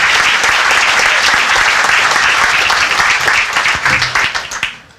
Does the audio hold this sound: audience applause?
yes